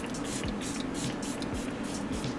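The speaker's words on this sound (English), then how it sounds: "I actually like to use like maybe like a setting spray or something like that" Makeup setting spray hisses from a pump bottle in a few short, airy bursts close to the microphone, with no talking.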